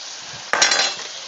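Shrimp hitting a hot frying pan, a sudden sizzle that flares up sharply and then fades over about a second, close and loud.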